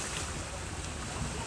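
Water rushes and washes steadily on a rainy outing, a soft, fairly distant wash of noise with no clear voices.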